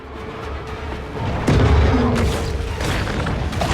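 A torpedo explosion in the Maneater shark video game lands as a loud, deep boom with a rumbling low-end tail, set within continuous game noise and ambient clutter.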